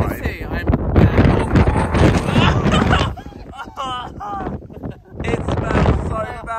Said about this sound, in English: I can confirm the wind today is windy